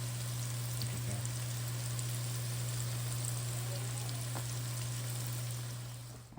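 Beef for Mongolian beef fries in grease in a pan, a steady, even sizzle that carries on alone and close with no talking over it.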